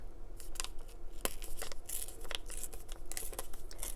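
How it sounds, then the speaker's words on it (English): Paper being ripped out of a journal, heard as a close, continuous crinkly tearing with scattered sharper rips throughout. "I think I'm going to rip this up."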